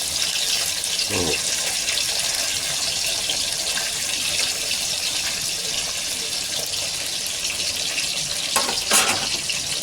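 Oil spattering in a pan while fish fries, a loud continuous hissing sizzle with a couple of brief clatters near the start and end.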